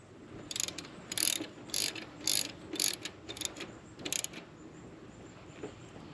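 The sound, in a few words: ratchet tightening mounting bolts on C5 Corvette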